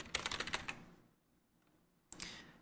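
Fingers type quickly on a computer keyboard, a close burst of rapid clicks, a brief pause, then a few more keystrokes.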